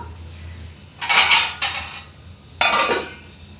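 Hyacinth bean pods tumble into a metal pot, followed by clattering metal clanks as a lid is set on top, in three distinct bursts over low background hum.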